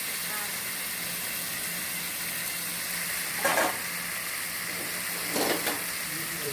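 Marinated meat fries in a pan, giving a steady close sizzle throughout, with two brief sharper bursts of spitting as pieces go in and are stirred. No one speaks.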